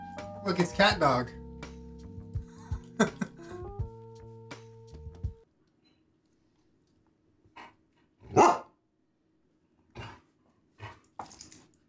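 A dog barks in sharp, separate bursts indoors, with a few loud yaps spaced apart after an opening stretch of musical, chime-like tones and voices.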